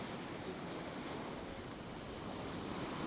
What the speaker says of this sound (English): you've got a bit of a rolling swell like this